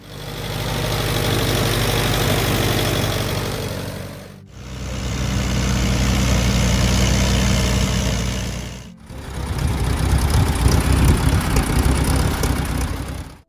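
Allis-Chalmers D14 farm tractor engine, built 1957 to 1960, running steadily with a deep low rumble and a constant loud drone, broken by two brief dips before it picks up again.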